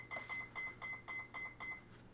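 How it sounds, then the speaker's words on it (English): A run of seven short electronic beeps repeats at a steady, quick pace, clear against a low background hum. "That thing's beeping at me."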